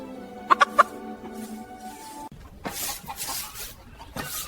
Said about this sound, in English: Cluck.